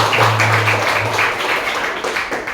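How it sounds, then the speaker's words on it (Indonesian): Applause from an audience at a mental-health talk in an Islamic boarding school, steady, fairly close clapping that continues evenly over a low hum. "tepuk tangan."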